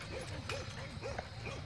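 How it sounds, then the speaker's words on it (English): Short yips and barks from a dog at an open-air dog park, several quick calls in a loose rhythm, fairly faint and distant against outdoor background noise. "And a new dog just came in."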